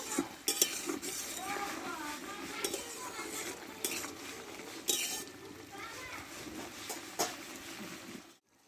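Boiled potatoes are stirred in a pan for Bengali alu charchori, with a utensil repeatedly scraping and clinking against the metal in an uneven rhythm. Faint background voices and clatter sit beneath it before it cuts to silence at the end.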